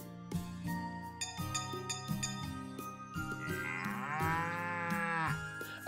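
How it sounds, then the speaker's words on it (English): Alpaca call from the farming video game Story of Seasons: Pioneers of Olive Town, a loud mooing, cow-like bellow repeated several times over light music with chiming tones, the final call rising and long. "is that really the sound the alpacas make?"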